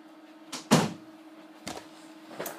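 A door thuds shut once, with a couple of softer knocks and rattles before and after in a quiet room.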